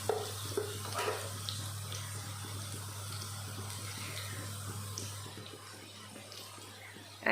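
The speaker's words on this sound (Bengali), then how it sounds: "রসুনটা হালকা ফ্রাই করে নিচ্ছি।" Garlic frying lightly in a pan, a soft continuous sizzle with faint crackles and an underlying steady hum, close and fairly quiet.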